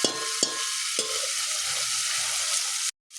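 Rice and spices roasting in a pan for masale bhat, a steady bright sizzle with a few sharp spoon knocks near the start, ending in a brief cut to silence.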